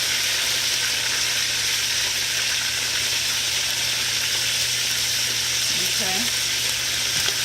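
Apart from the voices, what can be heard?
chicken leg quarters searing in a pan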